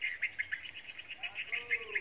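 Punai green pigeons call before sunrise, a rapid series of fairly faint, high repeated chirps over quiet background.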